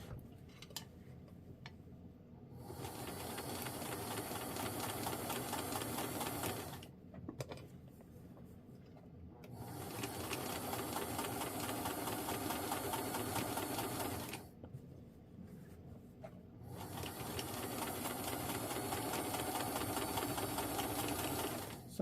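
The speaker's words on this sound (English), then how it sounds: "I'm going to slowly stitch right to the right of my basting stitch" A sewing machine runs in three long steady bursts of fast, even stitching, sewing slowly alongside a basting stitch while assembling a New Look 6603 garment, with short quiet pauses between runs and no talking.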